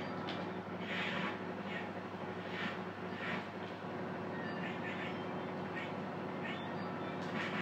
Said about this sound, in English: I think the train's going to come, you know.